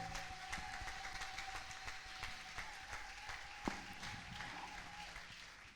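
A church congregation at a Sunday service applauds to welcome the preacher, a steady, moderately quiet patter of many hands clapping with a sustained tone and a sharp knock partway through.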